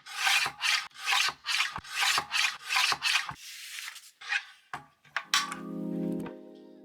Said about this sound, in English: Let's cut up some paper.